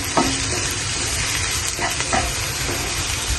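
Garlic, ginger and kanthari chillies fry in oil for a Kerala chicken thoran, making a continuous close sizzle with a few light stirring scrapes and no talk.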